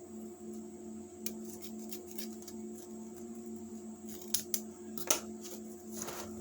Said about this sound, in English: I'm going to cut a portion of that overlap off